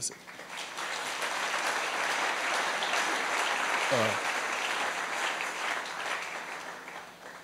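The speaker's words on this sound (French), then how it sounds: "Est-ce qu'on peut applaudir?" An audience applauding a group of young men at a church gathering, sustained even clapping for several seconds at moderate level, with a brief voice or tone rising partway through.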